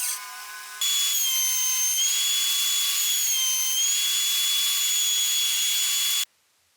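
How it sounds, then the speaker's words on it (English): Rough 8/4 lumber is milled on a jointer, table saw and planer, a loud, sustained high-pitched machine whine that starts abruptly after a brief lower hum, holds steady for several seconds, then cuts off into silence. "We're going to grab some rough 8/4 lumber and run it through the milling process, which includes the joiner, table saw,"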